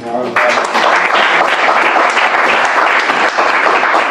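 A church congregation breaks into loud, sustained applause that fills the room evenly for several seconds, a dense wash of clapping hands with a voice speaking briefly at the very start.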